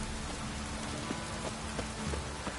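Steady rain in the video game Witcher 3, a constant hiss of drops on surfaces with faint patter details, close and even throughout without pause.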